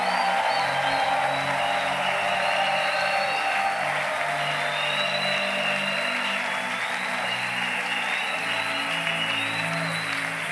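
A church congregation gives sustained applause and acclamation, a steady wash of clapping with cheering and sustained tones underneath that holds an even level throughout.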